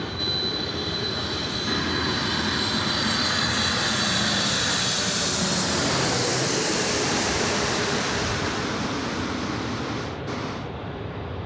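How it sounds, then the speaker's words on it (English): A UPS Boeing 747-8 passes overhead on landing approach to runway 16 right at Sydney Airport at night, a loud, steady broadband jet roar filling the whole stretch and easing slightly at the end. "It's a 748 and it's coming in from Honolulu, now on the big screen and coming in overhead for a landing on runway 16 right"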